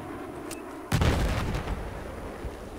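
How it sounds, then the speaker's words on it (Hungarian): A single loud explosion in the video game Battlefield 4 bursts suddenly after a brief lull, then trails off into a long, rumbling, noisy decay with no talk. "Így, ez nem kicsit robbant, barátom."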